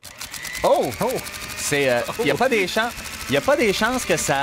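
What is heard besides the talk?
ceiling fan switched on, mechanical ratcheting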